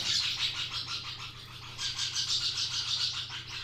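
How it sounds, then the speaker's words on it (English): Aymara parakeets and finches chirp indoors in a living room. The bright calls form a steady, rhythmic stream that runs on throughout at moderate loudness, with no speech. "as you can hear, it's not all finches. I still have 2 Aymara parakeets in my living room right here."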